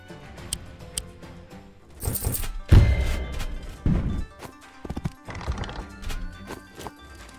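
Horse unit in the strategy game Wargroove, with clip-clopping hooves, a loud neigh and heavy thuds at intervals over faint background music.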